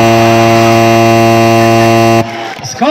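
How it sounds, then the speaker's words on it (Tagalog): A shot clock buzzer at a basketball game blares loud and steady for about two seconds, then cuts off abruptly, leaving faint background noise. "Wait for the buzzer."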